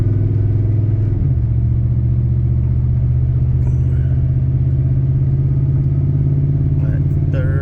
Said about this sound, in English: So, just a good running old truck.